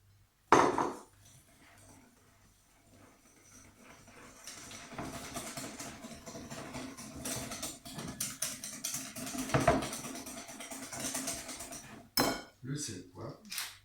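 Utensil stirring egg into spelt flour in a bowl, a steady run of close scraping and clinking strokes against the bowl, with a sharp knock at the start and a few louder clatters near the end.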